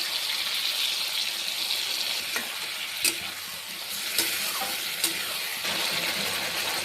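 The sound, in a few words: spice paste frying with ridge gourd and potatoes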